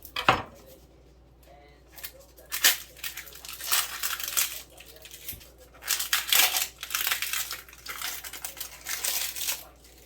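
Onion skin being peeled by hand in a kitchen, with dry papery crinkles and crackles coming in short irregular bursts, close and clear with no talking.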